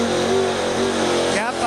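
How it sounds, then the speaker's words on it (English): A pulling truck's engine roars hard at a truck and tractor pull, a loud sustained rev with shifting pitch that nearly fills the moment, while an announcer's voice talks over it. "That's a good running truck."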